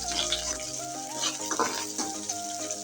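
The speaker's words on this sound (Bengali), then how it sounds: "এই তেলের সাথে পেস্টটা ভালো করে ভেজে নেব।" Spice paste with green chilies fries in oil with a continuous close sizzle, broken by occasional stirring scrapes and light clinks; no talking.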